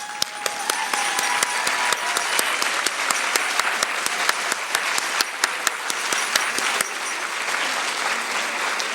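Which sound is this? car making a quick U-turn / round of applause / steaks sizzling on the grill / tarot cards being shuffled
round of applause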